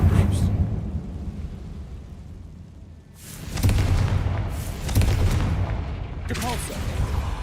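Repeated Confringo spell blasts in the video game Hogwarts Legacy, several loud booming bursts a second or so apart with rumbling tails, amid ongoing game noise.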